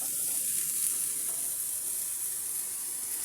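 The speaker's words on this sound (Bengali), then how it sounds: "পাতাটা ভাজা হয়ে গেছে" Taro (kola kochu) leaves frying in a pan, giving a steady, even sizzle with a soft hiss that holds at a constant level throughout, no voices over it.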